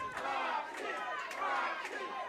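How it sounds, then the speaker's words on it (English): A wrestling crowd at an Xcite Pro Wrestling event chants in unison for the wrestler Foxy, a steady, loud wash of many voices with rhythmic surges, heard alone without commentary. "The crowd chanting for Foxy, trying to will her back to her feet."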